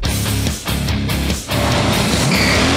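A 900-horsepower Detroit muscle car, a Buick GNX, roars with loud sustained engine noise and brief dips, its revving tone rising toward the end.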